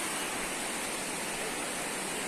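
The Humgo River flows with a steady, even broadband rush of water, continuous and moderately faint, with no voices over it.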